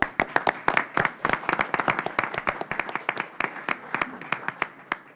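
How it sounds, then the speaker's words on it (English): Sparse, close hand claps at a county commissioners meeting, a small group clapping in an uneven, sharp rhythm that thins out toward the end. "So give them a round of applause, everybody"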